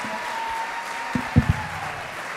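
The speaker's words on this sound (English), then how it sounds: "Let's give him another round of applause." Audience applause rolls on at moderate loudness, a steady wash of clapping with a couple of sharper thumps near the middle.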